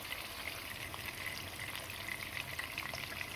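Katla fish sizzles in hot oil in a frying pan, a steady close crackling hiss that runs evenly throughout with no voices over it.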